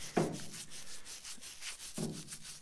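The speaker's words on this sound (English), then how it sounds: "I'm using a soft wire brush." A soft wire brush with WD-40 scrubs a small-block Cutlass engine piston, giving two short raspy scrubbing strokes about two seconds apart, close and fairly quiet.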